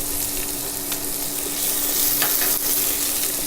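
Thawed frozen green peas sauteing in a spice mixture, giving a steady close sizzle with a few light stirring scrapes, loud and continuous with no talk.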